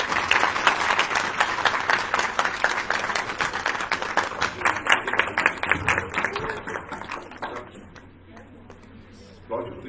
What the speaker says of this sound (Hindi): आप सबकी भरपूर तालियों में अफजल खाना।